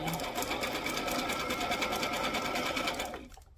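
A sewing machine stitches steadily close to the edge of a paper cupcake liner, a continuous fast mechanical whirr running loud and near for about three seconds before stopping.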